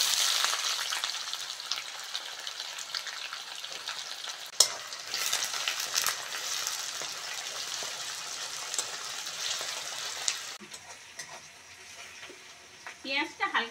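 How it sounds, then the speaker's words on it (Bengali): Chopped onions frying lightly in a pan with a little sugar already caramelized, a continuous crackling sizzle with occasional stirring clatter, fairly close, softening near the end as a few metallic scrapes come through. "পেঁয়াজটা হালকা করে ভেজে নিয়েছি"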